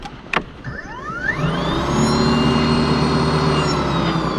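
EGO electric snow blower with a steel auger spinning up and running at low throttle, a rising motor whine settling into a steady hum and whir, close by, after a brief click.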